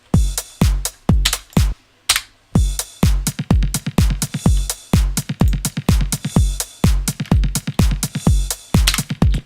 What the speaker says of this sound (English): when you play it with the kick drum and literally everything at the same time,